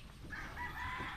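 Chickens and a rooster on a backyard farm, with crowing and clucking calls rising over a steady ambient murmur for a little over a second, moderately distant.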